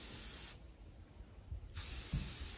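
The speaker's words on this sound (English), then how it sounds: "I'm gonna spray paint these black" An aerosol can sprays black paint onto wine bottles outdoors, giving two long, steady hisses up close with a short pause between them and faint bumps of handling.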